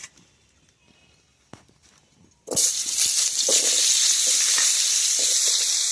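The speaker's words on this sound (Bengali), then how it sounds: "আলুগুলো ভেজে নিই, এর মধ্যে আলুটা একটু নেড়ে নিই।" Potatoes fried and stirred in a wok: a few quiet clicks and knocks, then a sudden loud burst of hissing sizzle that carries on steadily, with scraping stirs, close up.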